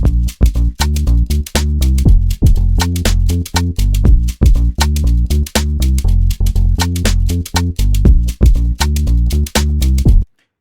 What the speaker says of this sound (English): And then I added these shakers.